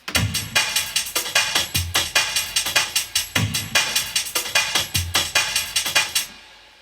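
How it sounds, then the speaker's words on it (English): A drum and bass drum loop with sidechain compression plays loud and alone, rapid breakbeat hits pumping in a steady rhythm, heavy low thumps recurring every bar and bright cymbal wash on top, ending with a sudden cutoff. "It's also from a long loop from a drum and bass collection"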